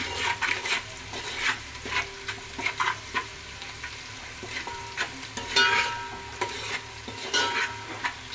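Salted onions sauté in a pan for curry, with a low steady sizzle and rhythmic scraping and tapping as a spoon stirs them repeatedly, close by and moderately quiet, no voices.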